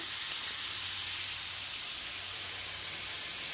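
Water added to a pan of browned rice for Mexican rice sends up a loud, steady sizzling hiss of steam that holds evenly throughout, close and with no talking.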